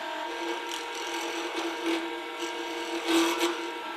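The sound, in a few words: wood lathe turning a segmented pen blank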